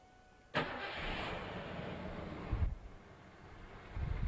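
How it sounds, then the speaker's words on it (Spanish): A car engine cranks and catches after fuel injector cleaning, then settles into a steady, fairly quiet idle with a slight rev near the end, heard close with no talking. "Ahora, ya que está todo colocado, vamos a tratar de encender el motor"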